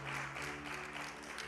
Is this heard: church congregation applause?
yes